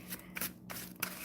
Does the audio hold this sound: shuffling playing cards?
yes